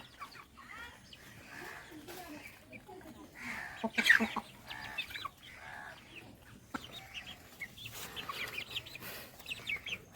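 A rooster clucks in short bursts through the clip, loudest around the middle, while someone talks over it for most of the time in a setting where birds are shown for sale.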